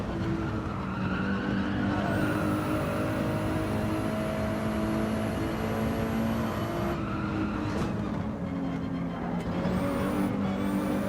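A Ferrari race car in Gran Turismo 7 daily racing roars steadily for the whole stretch, with sustained engine harmonics, tire squeal and shifting pitch as it corners, loud and close with no talk.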